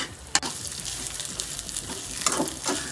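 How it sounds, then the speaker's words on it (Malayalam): Coconut pieces, cashews and raisins frying together in a pan for payasam, a steady close sizzle with stirring scrapes and a few sharp clinks, no talking. "അതിലേക്ക് തന്നെ ഞാൻ അണ്ടിപ്പരിപ്പ് മുന്തിരിങ്ങ എല്ലാം ഒന്നായിട്ട് ഇടുന്നുണ്ട്."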